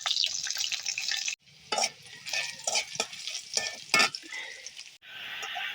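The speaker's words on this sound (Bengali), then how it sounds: "যে মাছ ভাজি করতেছি" Fish fries in a pan in a home kitchen with bright, crackling sizzle, interrupted by stirring and scraping bursts and short pauses, close and fairly loud.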